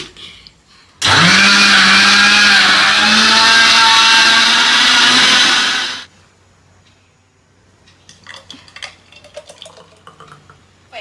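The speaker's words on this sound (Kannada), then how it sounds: "ಮಿಕ್ಸಿಲಿ ಹಾಕಿ ರುಯಿ ಅನ್ಸಿದ್ರೆ ಆ್ಯಪಲ್ ಜ್ಯೂಸ್ ರೆಡಿ" An electric mixer grinder blends apple juice, a loud steady whir lasting about five seconds that stops abruptly, followed by faint clatter and handling sounds.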